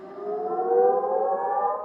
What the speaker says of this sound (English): an air raid siren sounded in Israel